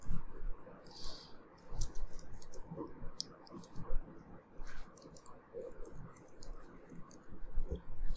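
Rapid clicking of computer keys as someone types Python code, an uneven stream of close, light taps and clacks with short pauses, no talking.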